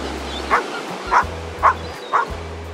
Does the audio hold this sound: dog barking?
yes